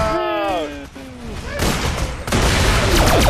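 Grenade blast in the Borderlands Pre-Sequel shooter game, a loud burst of explosive noise and gunfire following a descending synthetic tone, with continued rumbling booms.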